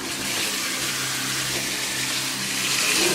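Cold water runs steadily from a tap to rinse an ice-dyed zipper shirt, a constant close rushing splash with no talking.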